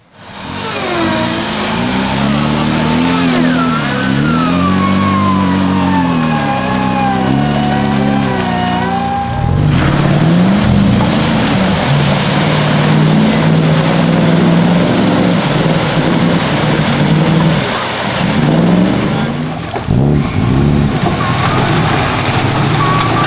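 A 4WD vehicle revs hard through a muddy bog hole, its engine loud and close, surging and dropping in pitch as it strains, then settling into a heavy sustained roar.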